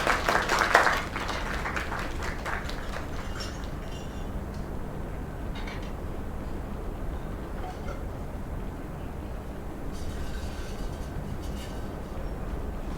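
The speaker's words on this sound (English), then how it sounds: "Another round of applause." Applause from a small crowd in the video game Lake, celebrating a new place being named: a brief burst of clapping at the start, then a steady, noisy wash of crowd sound.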